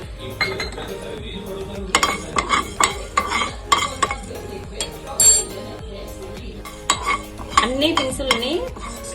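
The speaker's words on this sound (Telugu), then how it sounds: "ప్యాన్ హీట్ ఎక్కిన తర్వాత మెంతుల్ని వేసుకోవాలి" Fenugreek seeds dry-roast in a heated pan, stirred with a metal utensil that clinks and scrapes against the pan in irregular, close bursts over a soft background rattle.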